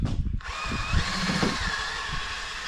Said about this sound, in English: I'm going to use my 3M eraser wheel to get this tape off the paint.